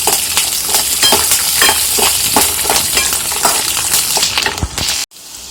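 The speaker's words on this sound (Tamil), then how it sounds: "இப்போ வெங்காயமும் பூண்டும் வதங்கிக்கிட்டு இருக்கு" Onion and about twenty garlic cloves sauté in a pan for garlic thokku, a loud, close, continuous sizzle punctuated by regular scraping strokes of a spatula, cutting off abruptly near the end.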